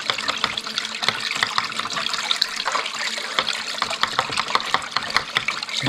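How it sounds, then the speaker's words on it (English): A small water pump sends a continuous wash of water through a mini gold sluice to clean out concentrate, heard as close, steady trickling and splashing with brief gurgles throughout. "I'm gonna turn my pump on again for a second. Wash this out here."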